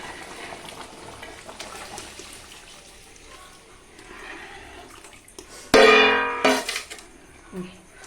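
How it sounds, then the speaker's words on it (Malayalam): Milk poured into a pot of boiling ada pradhaman, a sweet payasam: quiet low bubbling gives way to a sudden loud, splashing pour lasting under a second, then fades back to a simmer. "അപ്പം ഇനി നമ്മളുടെ പാൽ ഒഴിക്കാൻ പോവാണ്"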